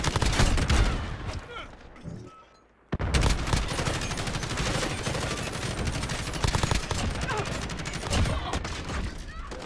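Rapid automatic gunfire in Call of Duty Modern Warfare during team deathmatch on the cramped Shipment map, loud bursts of quick shots that pause briefly, then resume in a long sustained stream, with a player talking over it.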